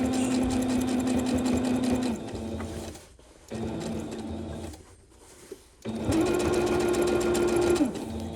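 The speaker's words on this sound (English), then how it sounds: "So we're gonna back stitch." A sewing machine back stitches the seam of a reversible tote bag, loud and close, with a rhythmic mechanical whir that stops and restarts in several short runs.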